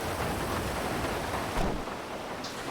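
Steady rain pours in the GTA V game world, a dense continuous hiss that fills the whole stretch, with a brief heavier swell partway through and no talk over it.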